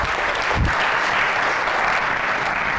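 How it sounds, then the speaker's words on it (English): Audience at a civic hackathon event giving a round of applause, steady dense clapping from many hands throughout, fairly loud and continuous. "please give a round of applause to Jennifer Wilhelm from the URA"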